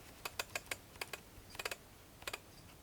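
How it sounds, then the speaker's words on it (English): Repeated small mechanical clicks from the aperture ring of a lens on a Sony A7R II camera, quiet and close, coming in quick bursts of several ticks with brief pauses, alone in a silent room. "You do hear the click of the aperture on this particular lens"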